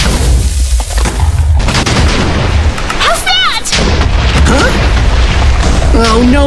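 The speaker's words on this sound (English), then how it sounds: "The giant cannons don't hurt the Enderman!" Giant cannons in Minecraft fire in heavy, booming blasts that repeat over the clip, mixed with excited shouting and game sound effects at loud volume.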